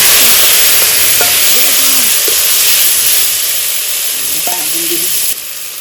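Bay leaves, dried chili and cumin fry in hot oil left from frying fish, giving a loud, close, steady sizzling hiss with a few faint clinks, which drops off abruptly near the end.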